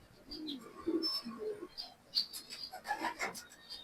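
Pigeons coo softly at a loft, with several low, rounded calls and a few higher chirps scattered over a few seconds against quiet background noise.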